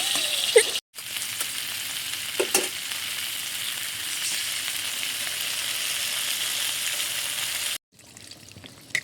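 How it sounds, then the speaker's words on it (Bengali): Okra frying in a pan while being stirred, a steady close sizzle with occasional scraping stir sounds, broken by two brief gaps of near silence. "ভেন্ডিটাকে একটু নেড়ে চেড়ে নিচ্ছি। এভাবে আমি ভেন্ডিটাকে একটু কষিয়ে নেব।"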